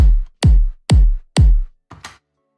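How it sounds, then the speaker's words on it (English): Four loud, evenly spaced electronic kick drum hits in a four-on-the-floor quarter-note pattern programmed in Ableton, each with a deep booming decay, followed by a softer short sound; no voices. "you'll notice that the kick drum is hitting pretty loud"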